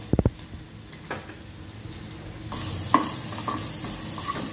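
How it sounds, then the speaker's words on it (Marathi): Toor dal stirred into a hing, mustard and cumin tempering on a low gas flame for a ridge gourd bhaji, with soft scraping stirs and a faint steady sizzle, a few sharp spoon knocks at the start. "डाळ इथे लो फ्लेमवर परतून घ्यायची आहे"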